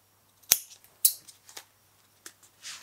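Scissors cutting tripod wrap material for a Gitzo Systematic GT4553S tripod: a few sharp, close snips spaced about half a second apart, followed by lighter clicks and a soft rustle.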